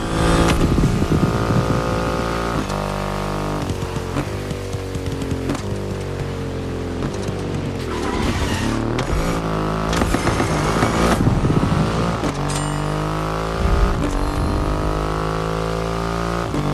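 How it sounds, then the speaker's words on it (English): A Triumph motorcycle with a 2.5-litre engine roars in The Crew Motorfest, its loud, steady engine note rising and falling through shifts and revs over roughly seventeen seconds, with music playing underneath. "An extreme motorcycle with a huge presence."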